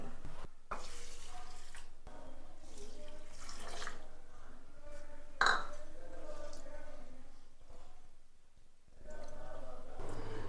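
Raw rice and urad dal being rinsed in water in a kitchen, soft sloshing and swirling with a brief splash midway, fairly quiet, while a person talks over most of it.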